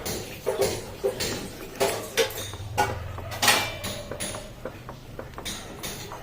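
Masala for paneer butter masala being stirred in a pan over medium gas, with scattered spoon clinks and scrapes against the metal at an irregular pace, fairly quiet and close, no speech.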